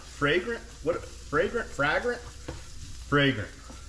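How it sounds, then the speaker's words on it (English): Onion and garlic sizzle in a pan while being stirred, a steady hiss under a handful of separate scraping stirring strokes, close and moderately loud. "I'm gonna go in with that garlic. Stir that around and let it get fragrant."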